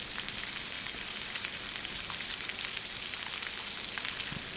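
Spaghetti aglio e olio with fresh lemon juice sizzling in a pan, a steady, crackling fry with scattered pops, close and continuous, with no talk.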